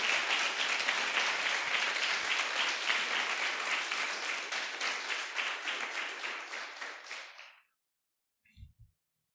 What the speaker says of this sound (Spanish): Si le vas a aplaudir al Rey de Reyes, apláudele.